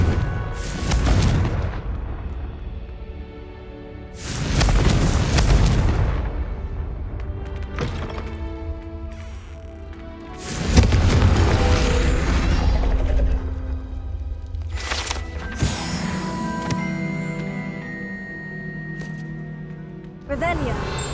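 Spell-cast explosions from Hogwarts Legacy, several booming blasts with crackling debris and shattering layered over game music, recurring every few seconds at loud, close range.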